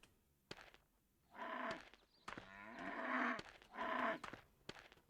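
Cows in the Wild West Dynasty video game give three drawn-out, moderately close moos in succession, with soft footsteps and small clicks between them.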